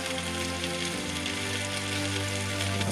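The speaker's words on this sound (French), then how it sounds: "Mettre un peu d'huile de sésame et végétale dans une poêle et déposer les rouleaux lorsque l'huile est bien chaude." Beef and vegetable rolls frying in hot sesame and vegetable oil in a pan, a dense continuous sizzle and crackle, close and steady throughout, no voices.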